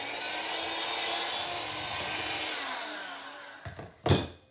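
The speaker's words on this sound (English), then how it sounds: "So I'm gonna mix until it's nice and creamy." An electric mixer creams Christmas cookie dough in a bowl, a steady close whirring drone that holds for several seconds before a few knocks and a sharp clatter at the end.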